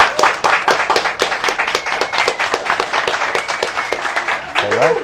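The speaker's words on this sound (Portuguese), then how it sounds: "uma salva de palmas para Casarabá por ter nos recebido" Audience applause at a carnival-themed interview event in Piedade, steady dense clapping throughout, with a voice speaking briefly near the end.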